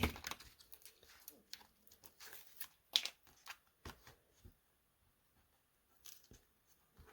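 Tape is handled and pressed onto a notebook pad, a run of quiet crinkling, tearing and rustling bursts near the mic, with pauses between them.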